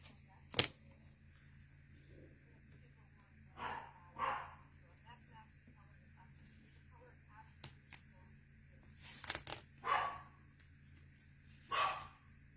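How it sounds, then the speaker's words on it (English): Several dogs bark in short bursts indoors, a few sharp, fairly quiet yaps spread across a calm room with someone talking nearby. "Sorry for my dogs."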